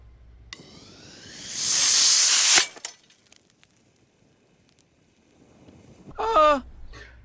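A small rocket motor burning gummy bear fuel through a number 14 nozzle gives a loud, bright hiss that lasts about a second and ends with a clank. A later squeaky, rising squeal follows the long quiet gap.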